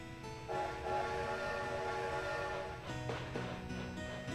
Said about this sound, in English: Let's get on this train and see what the world has to offer for us today.